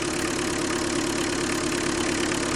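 A Tata Indigo car engine idles during a carbon-cleaning treatment, making a steady, loud, unbroken drone with no talking.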